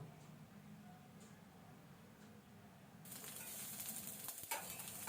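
Chopped onion hits a pan of hot oil for masala pasta, bursting into a sudden bright sizzle after a few quiet seconds, then crackling steadily at close range with no talking.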